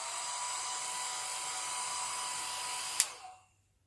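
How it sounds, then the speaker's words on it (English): A hairdryer on a very cool setting blows steadily while drying a styled bob wig, a constant airy whir that stops abruptly near the end with a brief click. "dry it with a hairdryer, get it right, on a very cool setting."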